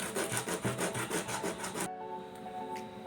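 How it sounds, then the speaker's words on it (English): Sandpaper rubbing by hand on a DIY motor water-pump part, a rapid steady back-and-forth scraping rhythm that is close and loud, then it stops abruptly into quieter room tone. "Now we want to rub this with the sandpaper."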